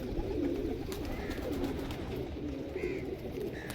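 Pigeons of an old breed kept in a loft coo steadily and close by, a continuous low murmuring with no talking.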